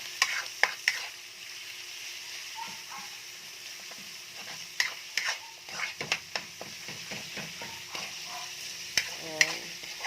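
Ground meat is stirred in a sizzling pan, a soft background fry crackle broken by irregular clicks and scrapes of a utensil against the pan, with a dog barking faintly several times late on.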